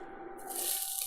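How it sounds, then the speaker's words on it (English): Diced onion sizzling in olive oil in a pot for a green chile chicken stew: a steady, close frying hiss that grows fuller and brighter partway through, with no talking. "Yeah, you can hear that sizzle."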